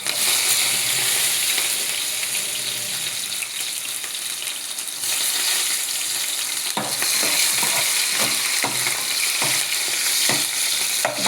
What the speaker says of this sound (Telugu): ఆనియన్స్ వేస్తున్నాను